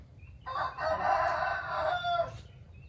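A rooster crows once, a loud close call that rises, holds and breaks off, with quiet background noise before and after.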